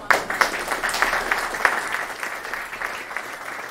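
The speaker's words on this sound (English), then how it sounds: "Applause for all of the panelists tonight." Audience at a Berkeley evening panel applauds the panelists, a full room of clapping with a few sharper individual claps standing out early before the sound gradually thins and softens.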